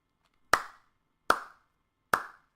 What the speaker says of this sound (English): I hear you clapping.